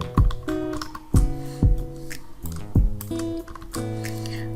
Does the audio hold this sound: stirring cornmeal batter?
no